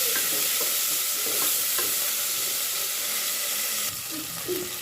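Onion and ginger-garlic paste sizzle steadily in a hot pan, a continuous crackling fry with scattered clinks and scrapes of stirring close by.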